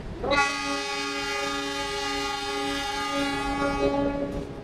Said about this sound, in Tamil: அந்த ட்ரெயின் சத்தம் கேக்குதோ?